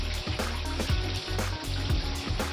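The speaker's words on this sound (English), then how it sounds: "turn on the shower and" A shower runs aboard a yacht after a hair clog is cleared from its drain, water spraying in a steady close rush with a slightly pulsing texture.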